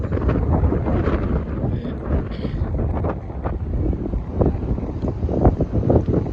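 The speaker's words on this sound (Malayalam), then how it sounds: "ആകെ ഭയങ്കര കാറ്റ് കാറ്റുകൊണ്ട് നിൽക്കാൻ പറ്റില്ല" Strong wind roars steadily across the microphone, a heavy buffeting rumble with gusts that never let up.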